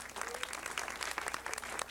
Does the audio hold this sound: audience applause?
yes